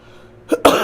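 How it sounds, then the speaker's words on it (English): A single short, sharp cough, close and loud, following a brief throat sound after near silence. "I got a cough"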